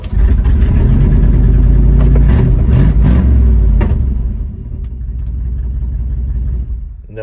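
A car engine cranks, fires and settles into a steady, close mid-pitched run with no exhaust fitted, loud and raw at first, then easing to a lower, even idle.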